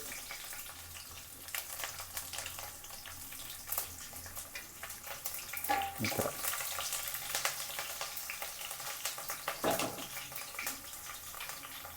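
Mustard seeds spluttering in hot oil while green chillies and onion fry for an aloo palya, a quiet continuous sizzle with scattered crackles and two louder bursts of stirring.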